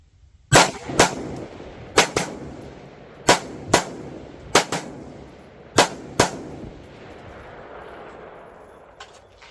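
A 7.62x39 rifle fires about eight sharp, loud shots outdoors, mostly in spaced pairs, each crack followed by a short ringing decay.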